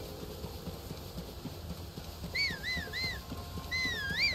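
Horse hooves clip-clop steadily in the video game Tears of the Kingdom, a soft rhythmic trot under a whistling, wavering melodic tone that enters partway through.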